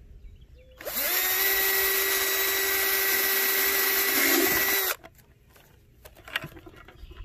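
A power drill runs steadily for about four seconds, boring holes for nipple fittings in a homemade chicken waterer, its whine loud and close, then stops, leaving quiet handling noises.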